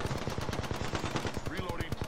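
Rapid automatic gunfire from an Apex Legends firefight, a dense run of loud sharp bursts filling the whole moment, with faint speech and game effects underneath.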